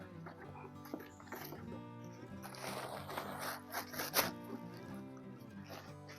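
The zipper on a Marc Jacobs tote bag is drawn open in short scratchy pulls, quiet and close, with faint handling rustle around it.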